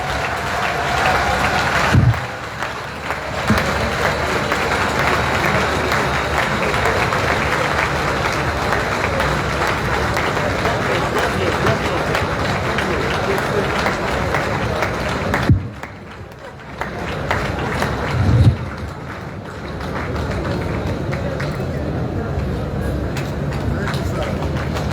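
Large audience applauding at a Nigeria Bar Association annual conference, a dense steady wash of clapping and crowd noise lasting throughout, briefly dipping midway before swelling again.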